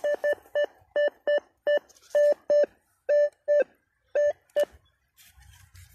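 A metal detector out in the field on a hard-packed dirt road sends a series of short, loud, clear electronic beeps in an uneven rhythm, about a dozen tones with brief gaps, then a faint rustle at the end.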